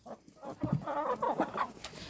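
Chickens cluck nearby in a short burst of low, throaty calls with no talking.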